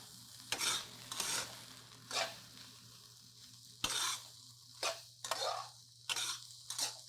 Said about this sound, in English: Push everything to the side and add the day-old cooked rice. Keep the heat on high and stir this for a couple of minutes.